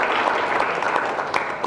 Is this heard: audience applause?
yes